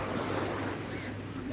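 Ocean waves at high tide rush and roar steadily along a swimming shore, mixed with buffeting wind noise on the microphone.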